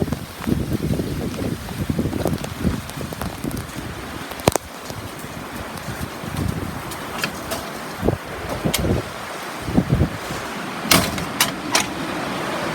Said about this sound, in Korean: 지금은 차아닌데예 정말 바람 많이 불고 비도 많이 오고 있습니다.